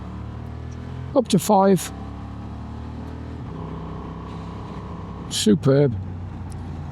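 A Honda XL750 Transalp motorcycle with an E-Clutch rides along a road, its engine rising in pitch in two short bursts of acceleration through the gears while a rider talks over steady wind and engine noise.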